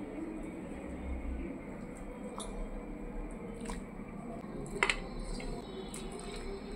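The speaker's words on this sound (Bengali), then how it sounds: "তো এখন আমি চিকেনটাকে মশলার মধ্যে দিয়ে দেবো।" Washed, drained chicken pieces, about 800 grams, squish softly into a spice mixture, with faint wet squelching over a low steady background and a few light clicks and taps nearby.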